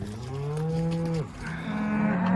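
Cattle being sorted in pens give a loud, close, drawn-out moo that breaks briefly and resumes as a second lower bellow, with no talk over it.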